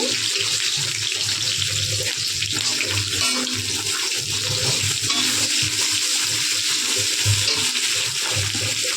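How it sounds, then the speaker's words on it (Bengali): Chopped onion, nigella seeds, bay leaf and dried chili frying in hot oil for a tilapia curry with taro stolons, a loud, dense, continuous sizzle close up with faint stirring. "ফোড়ন দেবো কালো জিরে, তেজপাতা, শুকনো লঙ্কা, দিয়ে দিলাম পেঁয়াজ কুচি"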